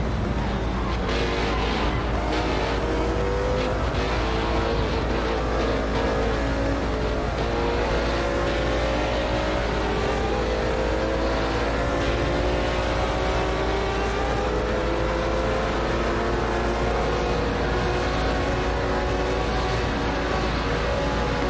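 A Porsche race car on the Watkins Glen circuit with historic 1960s prototypes, engine droning steadily and loudly throughout, pitch rising and falling through gear changes as it passes another car.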